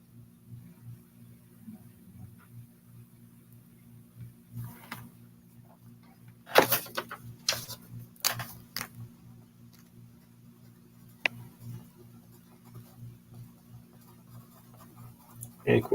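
Writing out the word Inquisition: soft, intermittent scratching strokes with brief pauses, fairly faint over a steady low hum.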